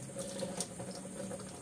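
Weak water trickles steadily into a Whirlpool LSP780GP washing machine drum with low supply pressure, a faint, continuous hissing flow with a low mechanical hum beneath.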